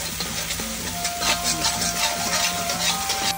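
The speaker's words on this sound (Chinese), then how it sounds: "我就放一汤匙的豆瓣酱啊，再继续炒香它" A spoonful of chili bean paste (doubanjiang) is stir-fried in a wok over low heat for spicy pork ribs, with a continuous close scraping and soft sizzle and a rhythmic stirring texture throughout.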